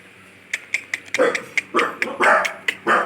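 A group of six pet dogs at a village house, barking in a run of about ten sharp close barks and yips that grow louder and longer toward the end.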